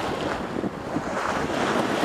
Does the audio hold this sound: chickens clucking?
no